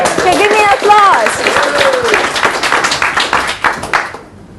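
A sales mastermind event audience breaks into clapping, building over a few seconds and fading out, mixed with a voice speaking and exclaiming over the start.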